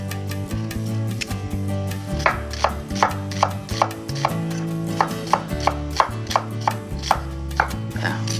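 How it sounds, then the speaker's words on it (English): An onion is chopped with a knife on a board, a series of crisp, evenly spaced cuts close up, starting slow and then falling into a steady rhythm over a faint background hum. "So let me cut a little bit of onion."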